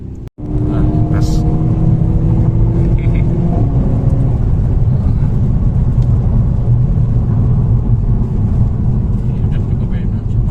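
A hatchback's engine pulls and revs steadily through a test drive in traffic, a sustained droning cabin roar with rising tone, under occasional talk.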